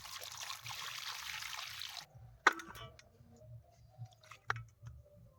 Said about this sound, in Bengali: বন্ধুরা, আমরা মাছের মাথাটাকে ভালো করে ধুয়ে নেব।